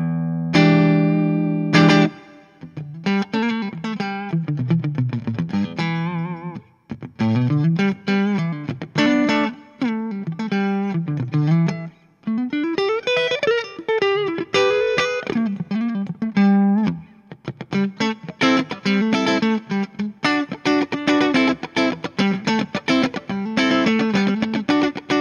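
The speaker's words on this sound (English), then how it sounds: "So here is the clean tone on the neck pickup." Clean tone from a Stagg SES-30 vintage S-style electric guitar on the neck pickup through a Tubemeister amp, playing chords and melodic lines for about twenty-five seconds with short pauses, steady and upfront with a light shimmer.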